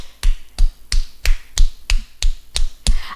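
Steady, even hand clapping in quick time at a church song gathering, about ten sharp claps close by, with no talk over them.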